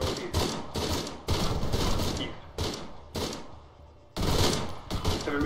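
Heavy machine gun fire in a military video game rips out in several loud, sustained bursts separated by brief pauses, close and dominant, with sharp repeated reports throughout.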